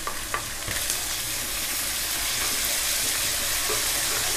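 Garlic and ginger sizzling in hot oil in a pan for a homemade okra and onion sabzi, a steady close frying hiss with faint stirring scrapes throughout, no voices.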